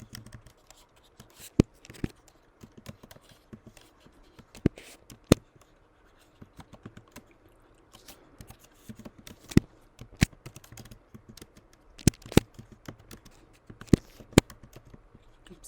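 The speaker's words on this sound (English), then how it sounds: "Trying to type with band-aids on a new keyboard is driving me nuts." Typing on a new computer keyboard with bandaged fingers comes through as scattered, irregular clicks and sharper key taps in bursts, fairly close, with no talking.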